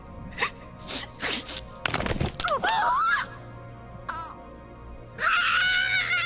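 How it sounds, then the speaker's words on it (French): An anime character cries out in anguished, wavering screams and pained wails, close and loud, broken by short gasps and clattering noises. "ses cris, les bruitages qui glacent le sang"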